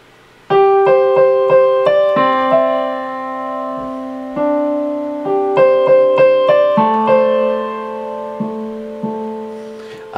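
Solo piano plays the chorus melody of a song, with clear single notes struck in a simple rhythmic line over sustained lower notes, close and fairly loud with no talking.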